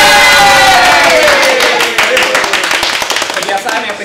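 Brisk hand clapping from a small studio group at the start of a cooking challenge show, crisp and close. A voice speaks over the opening before the claps take over and quickly fade.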